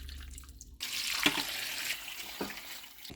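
Water poured into a turkey-size roasting pan while making beef stock, a steady splashing rush starting after a quiet moment and continuing loudly to the end.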